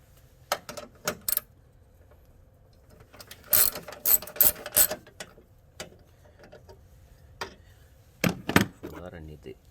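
A ratchet clicks in short, sharp bursts while 10 mm bolts on a 2013 Toyota Sienna are worked loose, with some runs faster and denser and quiet gaps between them, close and loud.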